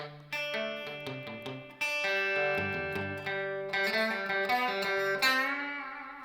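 Guitar playing bars three and four of a riff, clean plucked notes and a few bends ringing out in a quick melodic run, close and solo with no talking.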